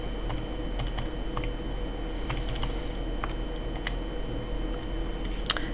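Buttons tapped on a calculator while entering an equation for an algebra problem, irregular light clicks spread across the stretch over a low steady hiss.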